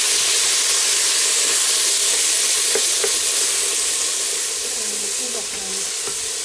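Tomatoes frying in hot oil in a pot over an outdoor village fire in Kenya, giving a loud, steady, broadband sizzle that holds evenly throughout with faint stirring clicks and no talking.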